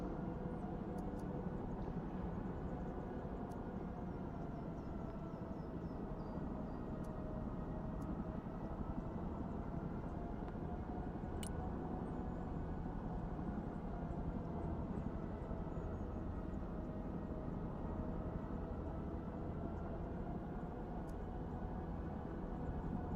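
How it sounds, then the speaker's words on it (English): A Chinook helicopter flying low in the Broken Arrow video game, heard as a steady, unbroken rotor-and-engine drone at even loudness throughout, with faint ticks scattered over it. "Chinook."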